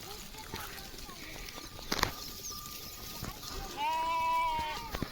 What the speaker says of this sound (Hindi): ये देख सकते हो कितना सारा भेड़।